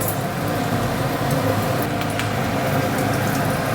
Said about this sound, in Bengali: এগুলো একটু সময় নিয়ে সুন্দর করে ভালো মতন করে লাল লাল করে ভেজে নেব।